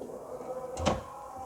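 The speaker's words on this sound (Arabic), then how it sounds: "نفتح معاكم دلوقتي الفريزر من تحت" A Sharp refrigerator's bottom freezer drawer slides open with a single short scraping thud near the middle, close and fairly quiet against a faint background hum.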